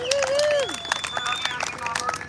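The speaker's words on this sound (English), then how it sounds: "Round of applause to her." An audience breaks into scattered applause, individual claps popping irregularly under a person's voice that is speaking over them.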